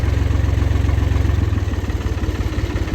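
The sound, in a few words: tractor engine idling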